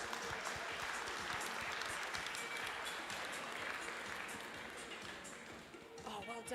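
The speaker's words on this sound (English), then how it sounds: "Let's give him a round of applause for being dressed." Congregation applause during a Sunday church service, a steady, moderately distant wash of many clapping hands that gradually eases off, with talking at the close.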